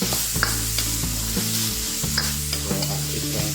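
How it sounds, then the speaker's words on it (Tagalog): Ingredients for lomi, including carrot, being sautéed in a pan, with steady frying sizzle broken by repeated scraping stirs and clinks of a spatula, close and fairly loud, no talking. "Gisa lang natin konti"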